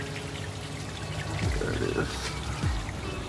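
Coolant flushing out of a car engine cooling system during a head gasket sealer job, a steady trickling pour of liquid with someone briefly talking over it.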